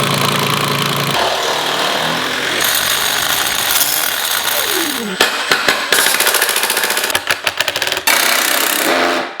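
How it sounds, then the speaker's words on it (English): A loud power tool on a construction site whirs and grinds with an engine-like drone, then breaks into rapid rattling bursts of drilling or hammering, close by. "making really strange sounds on the construction site with your power tools"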